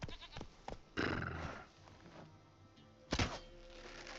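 A goat bleats a couple of times in short bursts in The Witcher 3: Wild Hunt, mixed with game sounds and background music, fairly close and clear.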